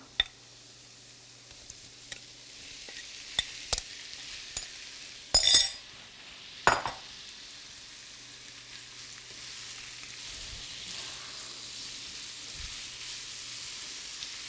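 Shrimp frying in garlic-infused oil in a pan, giving a steady soft sizzle with a few sharp clatters of utensil against the pan partway through, and no talking.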